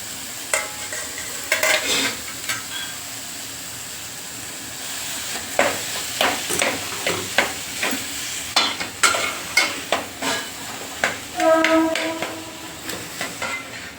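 Potatoes for a patti samosa filling frying in a pan, a soft sizzle under repeated scraping stirs of a spatula, close and unhurried.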